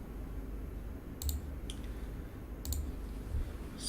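A computer mouse giving a few sparse, faint, sharp clicks over quiet room hiss, while files are pasted into a folder.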